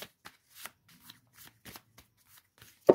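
Tarot cards being shuffled in short, separate bursts of riffling and sliding, close and fairly quiet, with pauses in between and no voices.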